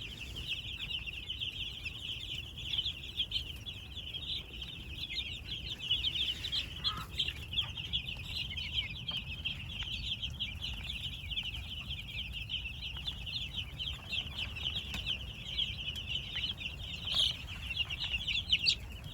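A group of young chicks on a farm keep up a continuous high chatter of peeps and soft clucks, close by and steady, with faint rustling and occasional wing flutters underneath.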